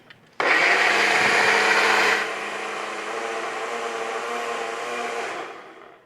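A countertop blender runs loudly and steadily for several seconds, its motor pitch dropping partway through before winding down, with no talking over it.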